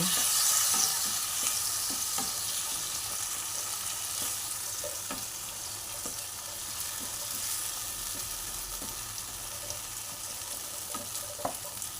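A pan of pointed gourd filling fries in a soft, continuous sizzle with scattered stirring scrapes and clicks. The sound is moderately faint and close, and no voices are heard. The pouring of the water is not distinct.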